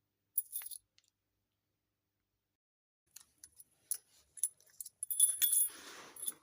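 Metal safe keys, cut by code for a Phoenix Diplomat safe, are handled. Scattered small bright clinks and jingles sound close, growing busier toward the end with no talk.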